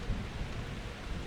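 Thunder after a lightning strike in the Unforeseen Incident video game, a low continuous rumble mixed with rain-like hiss, steady and moderately quiet throughout.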